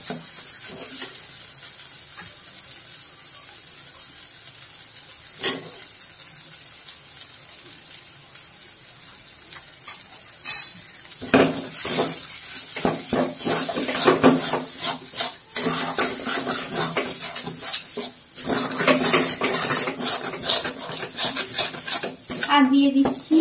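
Paneer stuffing with garam masala and whole raisins frying in a pan, quiet at first, then a loud sizzle with repeated scraping and stirring strokes of a spatula against the pan, no talking.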